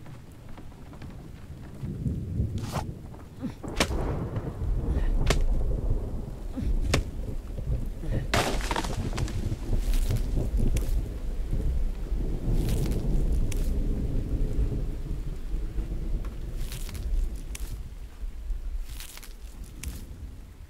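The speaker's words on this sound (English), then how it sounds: "Don't mind a nice little bit of rain" Steady rain with rumbling thunder and sharp cracks in the survival video game The Infected, a continuous downpour hiss broken by several loud rolls, with occasional game sounds alongside.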